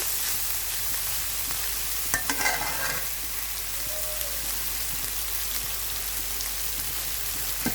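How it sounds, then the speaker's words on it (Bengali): Shing catfish is sautéed in masala in a pan, giving a steady broad sizzle throughout, with a brief cluster of utensil clinks early on and no talking. "মাছটাও আমরা কষিয়ে নিচ্ছি"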